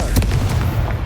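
The Confringo blasting spell in Hogwarts Legacy goes off as a loud, close, booming burst with sharp crackling impacts, a dense continuous blast over about a second.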